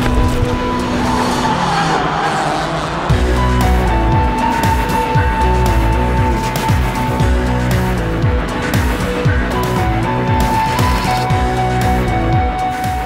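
A compact car driven hard on a race track, engine revving up and down through rapid gear shifts with tire squeal, loud and close for the whole stretch.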